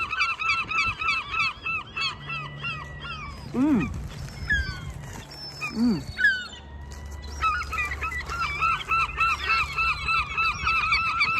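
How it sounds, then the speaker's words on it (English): Loud geese and other fowl honk and squawk in rapid, overlapping bursts close by in the medieval town of Conwy, Wales, crowding in with several long rising calls and no talk. "All the birds are surrounding me."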